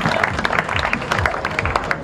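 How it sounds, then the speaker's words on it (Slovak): A crowd at a town day ceremony in Žarnovica claps in dense, steady applause at moderate loudness, with some voices mixed in. "Ešte raz veľký potlesk"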